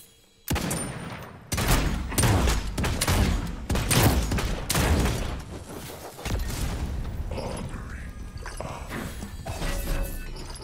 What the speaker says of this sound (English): Using an alien rifle. Frost alien rifle.